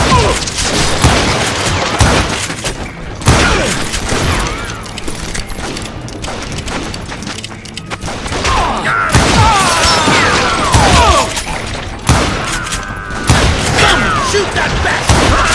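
Dense, loud gunfire and booming blasts fill a Call of Juarez Gunslinger shootout on PS3, with rapid overlapping shots throughout and game voices shouting amid the chaos.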